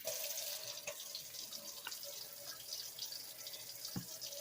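Faucet water runs into a sink while a bowl used for growing cat grass is rinsed out, a steady close splashing hiss with a few knocks of the bowl.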